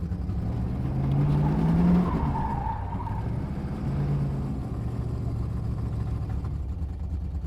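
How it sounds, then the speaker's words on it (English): Steady roar of a car engine with a Thermoquad carburetor under hard acceleration at wide open throttle, pitch rising then settling, heard from inside with constant road noise; the car has a suspected broken motor mount. "It sounds wicked at wide open throttle"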